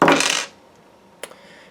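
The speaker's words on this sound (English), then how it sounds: "let me just put the dice on it just to be sure" Dice are thrown down in a brief, bright clattering rattle that stops quickly, followed by a single small click after a short quiet pause.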